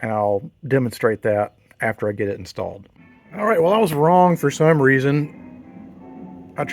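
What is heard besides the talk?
None of the usual background noises is heard.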